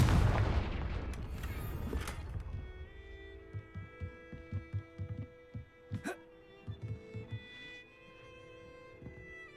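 A Confringo fire spell in Hogwarts Legacy goes off with a loud, booming blast that rolls and fades, followed by a series of softer rhythmic thumps and a sharp crack partway through.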